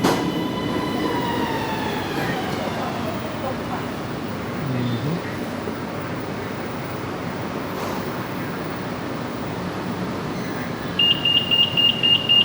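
A Bangkok underground metro train stands at a station, its broad rumble and rising wheel whine filling the platform, with a public announcement voice over it and a pulsing door-warning beep near the end.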